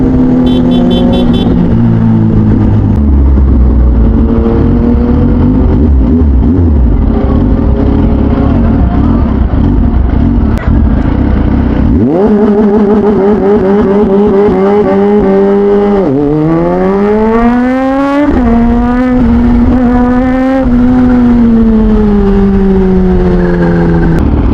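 Kawasaki ZH2 motorcycle engine revving loudly and continuously, with repeated sharp throttle blips whose pitch sweeps up and down, close and dominant throughout.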